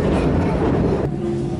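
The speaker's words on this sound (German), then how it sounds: "Dieser Zug fährt weiter bis Harburg-Rathaus." A Hamburg S-Bahn train rumbles through Hauptbahnhof station, a loud steady low-pitched drone of motor and wheels that shifts abruptly to a quieter tone partway through.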